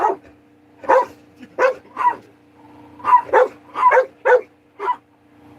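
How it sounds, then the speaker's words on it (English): Dogs, including one named Kif, bark in a series of about ten sharp, close barks at an irregular rhythm, with a faint whimper between them and a brief spoken word. "He's just barking at random lights right now."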